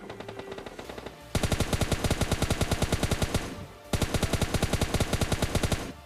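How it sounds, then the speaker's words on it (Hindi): Two long, loud bursts of rapid automatic gunfire in a battle royale style shooter video game, each a steady rattling stream of shots with a short gap between them and no voices. "इतने मेरे को फायर शॉट्स आते हैं"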